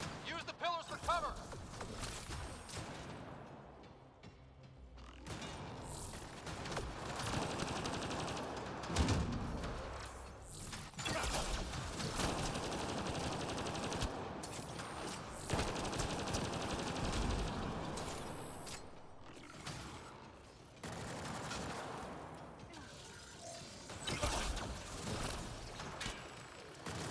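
Rapid gunfire bursts from a weapon in the video game Mass Effect Andromeda, dense and continuous over about half a minute amid combat noise, with a voice speaking over parts of it.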